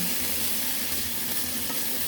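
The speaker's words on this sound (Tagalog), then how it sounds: "Siyempre, in-stir fry muna natin yung chicken." Chicken fillet and broccoli sizzle steadily in a hot pan, a constant bright hiss of frying with no voices, even and unbroken throughout.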